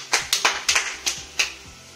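Six sharp hand claps in an uneven rhythm, close and fairly loud, each short and crisp with brief gaps between, standing alone with no chanting or singing audible.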